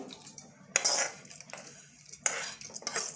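Cooled bottle gourd peel spooned into a mixer jar: a few sharp metallic clinks and scrapes of a spoon against the steel jar, in separate bursts with quiet gaps between, and no voices.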